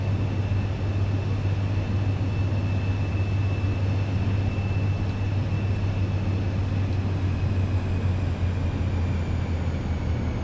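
A steady aircraft engine drone from Microsoft Flight Simulator 2024, heard on a flight from Naples to Athens, with a continuous low hum and a high whine holding level for the whole stretch and no voices.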